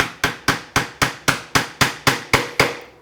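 A woodworking chisel is tapped with a mallet into a half-blind dovetail socket, giving about eleven sharp, evenly spaced knocks that ring close and loud with nothing else heard.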